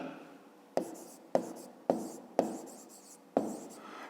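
Pen or pencil writing on paper during a fifth-grade maths exercise, a series of five or six short scratchy strokes, each starting with a sharp onset and fading, close and fairly quiet with no talking.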